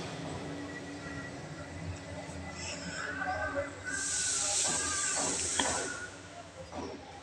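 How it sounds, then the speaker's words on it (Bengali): Potatoes fry in hot oil, a soft continuous hiss that rises into a loud, bright sizzling burst for a couple of seconds before easing back, with faint kitchen clatter. "আলুগুলো ভেজে নিচ্ছি।"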